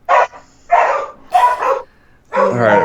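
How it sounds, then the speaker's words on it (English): Dog barks come in alternating bursts, a handful of loud, close yips and woofs separated by short pauses, with no talking over them. "I like the alternating barks."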